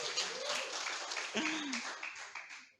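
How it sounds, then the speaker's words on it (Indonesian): An online church congregation claps in a homey worship setting, a moderate, fading round of applause with voices calling out and talking over it before it dies away. "Yang setuju berikan tepuk tangan."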